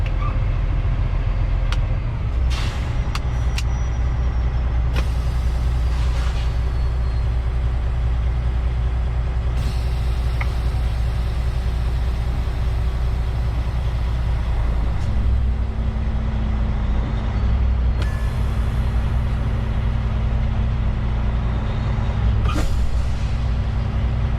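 Air brakes on a heavy truck hauling a 2018 Fontaine 60-ton RGN trailer hiss in several sharp bursts over a steady idling diesel engine, close and loud.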